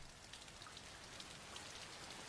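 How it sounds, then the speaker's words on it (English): Steady rain falls throughout, a soft even patter of drops with no other sounds. "Oh, it's raining."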